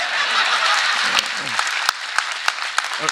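Audience applause at a public speaking event, a broad wash of clapping that fills the clip with a few sharper claps standing out near the end.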